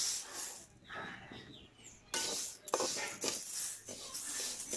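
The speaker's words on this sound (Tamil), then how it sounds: "இதுக்கு நம்ம வந்து கொள்ளை வறுத்துக்கலாம்." Horse gram is dry-roasted in a pan, making a faint shuffling rattle of small seeds with soft hissing surges and scraping that rise and fall, heard close and without any talk.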